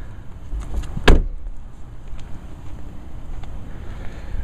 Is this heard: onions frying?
no